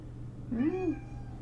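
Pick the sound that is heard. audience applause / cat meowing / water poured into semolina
cat meowing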